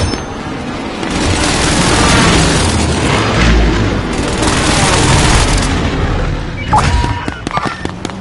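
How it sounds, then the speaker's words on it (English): Video game precision airstrike going off in a long, heavy rolling roar of explosions lasting several seconds, loud and close, tailing off into scattered crackling bursts. "Friendly precision airstrike inbound."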